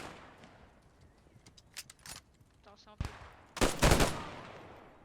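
Gunshots in Post Scriptum, the World War II tactical shooter, during a competitive match: scattered single shots early, then two loud bursts of rapid fire near the end, with commentary running underneath.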